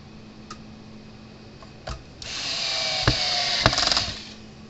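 A power screwdriver set to a slow speed runs on the screws of a Stafix fence energizer, giving a steady whirring drone after a few clicks, close and moderately loud, with no talking.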